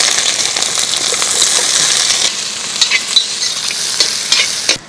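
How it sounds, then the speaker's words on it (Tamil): Sliced onions sizzle loudly in hot oil in a pan for a paneer gravy, a dense continuous frying hiss that thins toward the end with a few stirring scrapes, close and alone. "நம்ம கட் பண்ணி வச்சுக்கிற வெங்காயத்தை சேர்த்துக்கலாம்"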